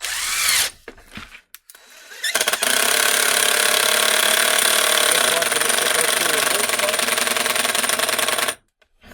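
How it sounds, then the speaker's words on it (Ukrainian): A DeWalt impact driver with a clutch bit holder drives a screw in one long loud burst of rattling hammering whir after a few short starts, then cuts off abruptly. "включаємо нашу муфту, закручуємо шуруп, наприклад, от сюди"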